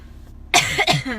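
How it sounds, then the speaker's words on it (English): A single sharp cough bursts out after a short quiet pause, followed by a rougher second cough and a trailing throaty sound, close to the microphone. "I have a bit of a cough"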